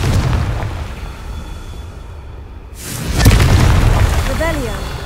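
A Confringo fire spell goes off in Hogwarts Legacy, starting with a heavy boom that fades, then a second burst and a rushing whoosh after a brief quiet gap, while a voice speaks over the action.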